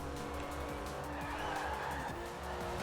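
A sports car drifts in Forza Horizon 4, its engine droning under a loud, sustained tire squeal that rises and shifts pitch over a few seconds, close and continuous with no talk.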